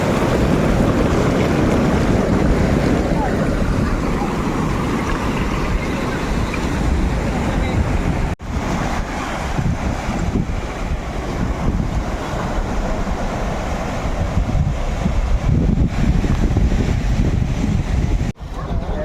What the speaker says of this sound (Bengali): আর এই মানে পাথরগুলো বা রকগুলো যাই বলবে, তার গায়ে এসে যখন আছড়ে পড়ছে, এই যে তারপরে এখানে ওটা আমাদেরকেও ভিজিয়ে দিচ্ছে।